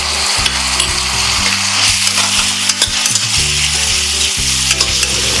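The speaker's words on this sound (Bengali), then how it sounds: "রসুন দিলাম, আদা দিলাম," Garlic and ginger sizzle with onion frying in hot oil, a loud, steady crackle that runs the whole time, with no one talking.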